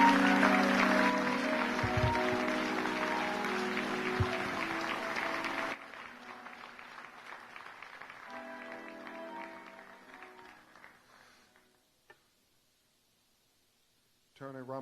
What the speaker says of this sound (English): you all give a big round of applause for this beautiful American family